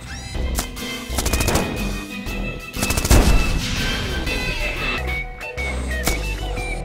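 Missiles firing in the video game Manual Samuel, a busy run of loud sharp blasts and booms in quick succession, with heavier impacts in the middle, set over game noise.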